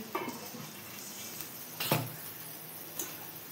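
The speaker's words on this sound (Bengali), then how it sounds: "এই দেখো, উচ্ছে আলু ভাজা হচ্ছে এখন।" Sliced bitter gourd and potatoes frying in a pan: a soft steady sizzle with a few brief clinks or stirring knocks, close and fairly quiet.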